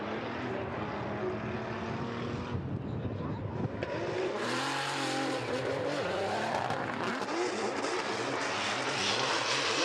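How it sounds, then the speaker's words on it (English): Engine of the TMS Racing Team Silo Tire E92 BMW drift car at Suzuka Twin Circuit, rough and unhealthy-sounding, roaring loud and close, rising into a harsh, sustained wail with tire noise as it rips into the outer zone. "Wow, his car does not sound good at all."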